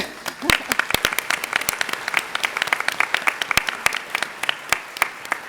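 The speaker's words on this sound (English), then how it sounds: "So give yourselves a round of applause." An audience claps and applauds, a dense burst of many hands with sharp individual claps standing out, steady throughout.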